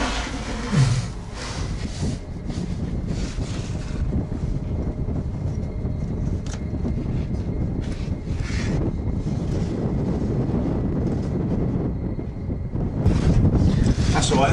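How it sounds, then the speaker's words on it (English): Strong wind gusts buffet the area outside an abandoned ROC Post bunker, a loud continuous roar with rumbling microphone buffeting that surges in several bursts, and no voices heard. "And it's very windy outside."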